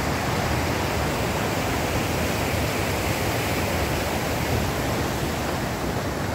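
Steady broadband rush of flowing water at Arroyo Lopez near Bariloche, a continuous, even roar filling the whole stretch with no voices.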